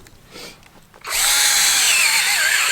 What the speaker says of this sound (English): once you've got the tree drilled in, you're going to want to tap in